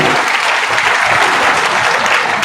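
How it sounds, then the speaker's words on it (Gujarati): An audience at a business seminar claps in loud, dense, sustained applause filling the whole moment without pause. "વાહ, એકવાર જોરદાર તાળી."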